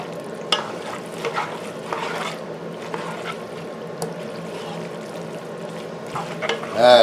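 A spoon stirs a thick, wet tuna casserole mixture in a bowl, giving soft squelching scrapes at a steady, close pace, with a few sharper clicks against the side.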